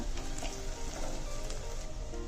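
Onions with turmeric sautéing in a pan give off a steady, dense sizzle, close and continuous for a couple of seconds, with no talking.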